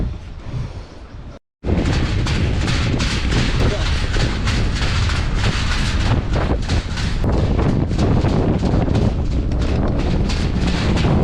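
Strong gusting wind buffets the microphone with loud, broadband roaring, briefly cutting out early and then blowing continuously and harshly on a riverside cycle path along the Rhône.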